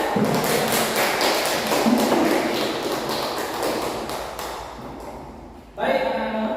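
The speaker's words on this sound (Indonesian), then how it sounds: "kasih aplaus dulu untuk semuanya" Students in a classroom give a round of applause, a dense patter of many hands clapping steadily for several seconds before fading out, with a brief burst of noise at the end.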